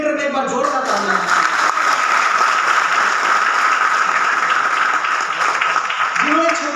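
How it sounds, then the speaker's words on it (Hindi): An audience at a business leadership gathering applauding to honor a leader, steady loud clapping throughout, with a voice speaking briefly at the start and again at the close. "आईटीसी लीडर में एक बार जोरदार तालियां।"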